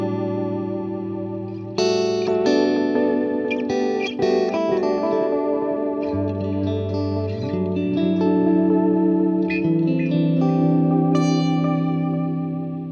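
Electric guitar through a Chase Bliss Tonal Recall analog delay pedal set to a fast modulation rate and shallow depth, giving loud warbling, chorus-like repeating notes and chords that trail and overlap for several seconds without any speech.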